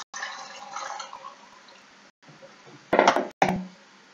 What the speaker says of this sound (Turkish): Et suyumuzu koyuyorum